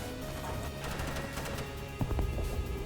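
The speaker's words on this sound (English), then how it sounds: "Why are there explosions?" Explosions and gunfire in a video game: faint crackling bursts of distant gunfire, then a heavier thumping explosion, all fairly quiet and with no talking.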